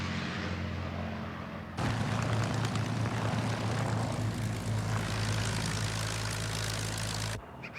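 Propeller-driven Japanese and American World War II fighter planes flying past, a loud sustained engine roar that cuts in abruptly, holds strongly for several seconds, then stops suddenly, with no voices.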